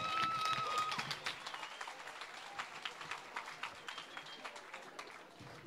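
An audience at a poetry slam greets a performer with loud, dense applause that stays busy across the whole stretch and tapers slightly toward the end, with scattered whoops over the clapping.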